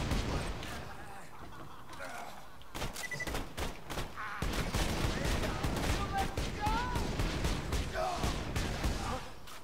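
Gunfire from a Borderlands 2 shootout, a run of sharp shots and bursts spread across the stretch with game effects mixed in, while voices talk over the action.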